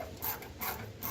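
Short ratcheting clicks from tightening mud flap screws on a Nissan Navara, three or four quick close-up mechanical bursts in about a second.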